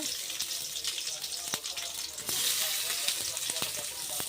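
Chopped small shallots and whole spices frying in hot oil for a prawn coconut-milk gravy, a steady close sizzle with scattered sharp crackles and pops, growing louder partway through.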